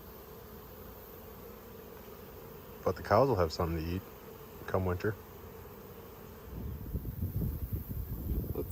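Honey bees buzz around an apiary near an uncut field and tree line as a steady, faint background drone, with someone speaking briefly over it and wind or rustling rising near the end.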